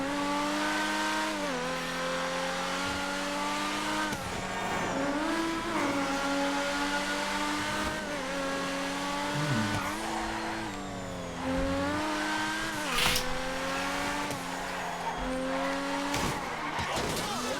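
Progen GP1 race car in GTA 5, its high-revving engine climbing and dropping through repeated gear shifts, with brief tire squeals on turns, loud and continuous throughout.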